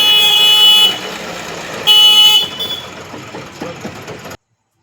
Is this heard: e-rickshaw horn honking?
yes